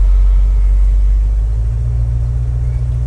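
A 1961 Chevrolet Apache pickup truck engine rumbles steadily while driving, with a loud, deep, continuous drone that holds level throughout.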